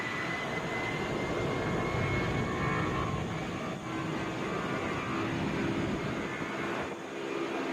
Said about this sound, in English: This is Delta 1477, headed to Chicago O'Hare in a Boeing 757.